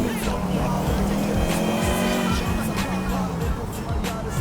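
A Tofaş Şahin car in GTA 4 drives with a steady, close engine drone whose pitch rises and falls gently as it is driven, with faint tire and road noise throughout.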